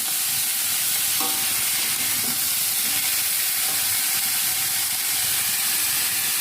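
Chopped banana stem frying in a wok, a loud, constant sizzle and hiss with faint scraping of a spatula stirring the vegetable partway through.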